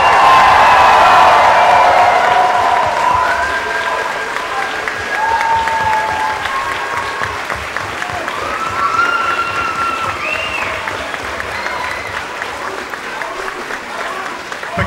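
A large festival crowd at Summer of Sonic 2013 cheers and applauds for the event volunteers, loud sustained clapping that slowly thins, with shouts and a voice talking over it.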